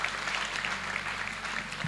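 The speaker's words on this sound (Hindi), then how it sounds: "एक बार जोरदार तालियां बजाकर मुझे बताएं।" Audience at a mushaira poetry recital claps in a brief, even burst of applause, moderately quiet and sustained without pause.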